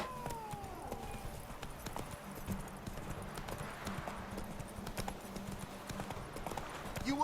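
Horse hooves galloping in The Witcher video game, a steady rapid clip-clop running throughout over a low rumbling ambience, with occasional faint game sounds layered on top.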